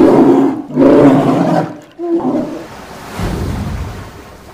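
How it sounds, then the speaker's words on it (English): A polar bear gives deep, loud roars up close, two long rumbling growls followed by a lower, breathy rumble, with no talking. "Polar bear."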